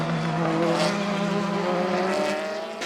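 Race cars in the 2022 6 Hours of Monza WEC endurance race, including a Corvette and a Ferrari battling for second place, with a loud sustained engine roar passing close by and fading slightly at the end.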